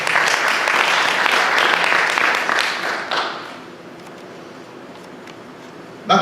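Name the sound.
congregation applauding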